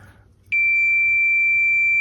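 A continuity tester on a repaired Husqvarna Automower boundary wire gives one loud, sustained high electronic beep that starts abruptly after a quiet moment and holds steady to the end.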